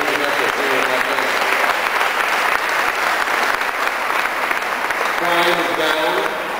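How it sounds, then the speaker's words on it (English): A crowd at a South Los Angeles community gathering gives a sustained round of applause for Police Chief Bratton, many hands clapping steadily at close range, with a few faint voices and cheers mixed in near the end. "Can we give Chief Bratton a round of applause?"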